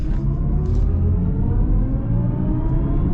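A 2023 BMW i4 eDrive40 electric car drives in sport mode, giving a steady low rumble of road and cabin noise with a faint whir, and no talk.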